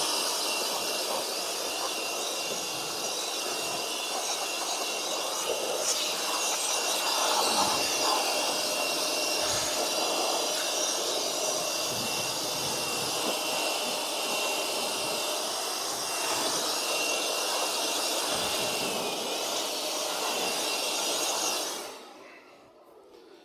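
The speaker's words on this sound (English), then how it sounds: "Again, the blower is very handy." A handheld blower clears chaff out of a hay baler with a loud, steady, close-up roar of rushing air. The roar holds with slight surges for about twenty seconds, then winds down and stops, and no one speaks.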